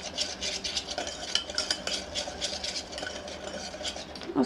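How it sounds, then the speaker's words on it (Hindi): A spoon whisks gram flour with a little water in a bowl, giving a continuous close scraping and stirring with rapid, irregular clinks against the bowl's sides. "थोड़ा सा पानी डालकर बेसन को पहले मिला लीजिए,"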